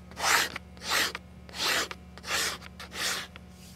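A sharp scraper dragged across a dry deer hide in five steady, rhythmic rasping strokes, each about half a second long with brief pauses between them, close and distinct against a faint low background hum.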